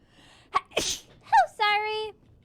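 A child sneezes, with a sharp intake and burst, then further quick vocal sounds, close and loud in an otherwise quiet room.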